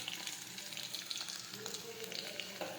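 Gram flour roasting in a pan over a lowered flame with softened gunda (cordia) fruit for sambharo, stirred steadily; a faint, continuous sizzle and hiss with soft scraping runs throughout, no talk.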